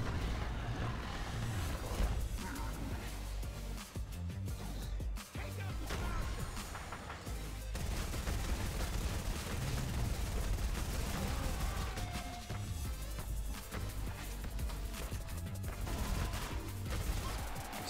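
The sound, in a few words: Bobcat assault rifle firing in Fortnite Save the World video game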